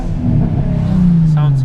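A Nissan 350Z with a VQ35DE engine and an ISR exhaust revs loudly up close, a deep rising exhaust drone sustained for a couple of seconds.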